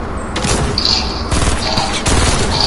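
Loud, dense gunfire from the Fortnite battle royale video game, with a rapid fusillade of shots and booms layered continuously throughout, close and harsh, with no speech over it.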